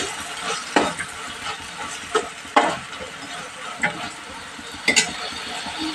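Boiled chicken gets stirred into a pot of aloo chicken kurma, with soft scraping and clattering strokes of a spoon popping out over a low simmering sizzle, irregular and close by.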